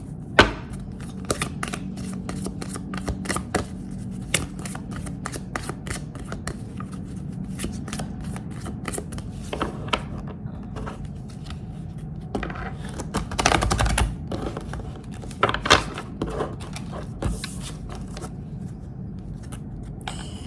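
Oracle cards being shuffled by hand, a close, dry run of rapid flicking and riffling bursts that repeat irregularly over about twenty seconds, with a few louder slaps and no talking.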